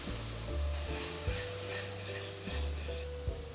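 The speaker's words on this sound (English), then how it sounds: "Next, add the chopped tomatoes." Chopped tomatoes drop into a hot cooking pan of ginger garlic paste tadka, with low thumping bumps and a steady sizzle, stirring clatter of utensil against the pan at a few points, close and alone with no talk.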